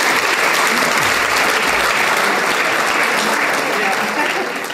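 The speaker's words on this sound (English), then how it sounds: "Let's give our counsellors a clap." A large convention audience claps steadily for the counsellors, a dense, loud wash of applause that holds evenly throughout.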